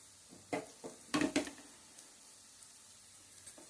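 Onions sizzle gently in a pan, with a few sharp scraping stirs clustered early, then a soft, steady fry with faint clicks.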